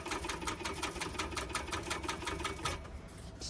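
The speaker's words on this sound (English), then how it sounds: "you can chain stitch them if you want" A sewing machine chain stitching the seams of a fabric pouch, running as a steady, rapid mechanical patter for about three seconds before slowing and stopping, fairly quiet and close.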